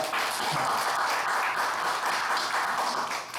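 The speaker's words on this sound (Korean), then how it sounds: "한번 박수 합시다." Congregation at a Sunday church worship service breaks into a steady, dense round of applause lasting a few seconds, with no talking over it.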